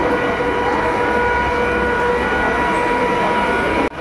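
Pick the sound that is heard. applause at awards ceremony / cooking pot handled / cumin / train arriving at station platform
train arriving at station platform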